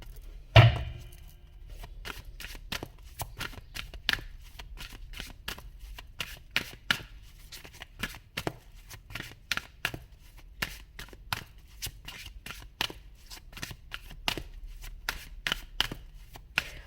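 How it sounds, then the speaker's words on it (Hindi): Tarot cards being shuffled and drawn by hand: a sharp initial riffle, then a long run of crisp, evenly spaced card taps and flicks close by, continuing steadily throughout. "तो और सारे जो कार्ड्स हैं वो भी मैं निकाल लेती हूँ, ताकि फिर आपको अच्छे से समझा सकूँ।"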